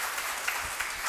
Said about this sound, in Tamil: கைத்தட்டியவர்களுக்கு பரிசுண்டு.